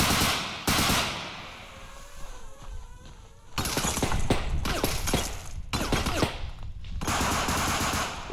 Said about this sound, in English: Where the shots come from?